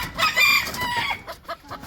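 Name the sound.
table fighter rooster crowing and clucking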